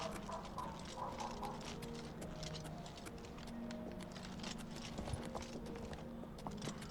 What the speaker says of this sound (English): Oh, they're getting their horses.